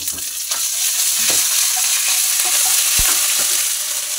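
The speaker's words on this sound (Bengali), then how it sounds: "আদা বাটাটাকে তেলের মধ্যে দিয়ে দেবো" Ginger paste sizzles in hot oil with fried cumin and fennel seeds for a yogurt curry, a loud steady crackle broken by a few sharp scrapes and taps of stirring.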